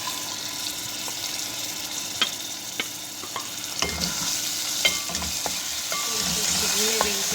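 Ginger garlic paste sizzling in a hot pan with a drop of green chili while a spoon scrapes and stirs, a steady crackle with occasional clinks, no voices.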